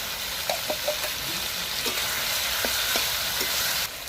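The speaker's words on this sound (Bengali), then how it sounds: "এরপর আদা দিয়ে দিলাম।" Goat meat with ginger and tomato stirred and fried over a clay stove: a constant close sizzle broken by several distinct spoon or spatula knocks and scrapes, with no voices.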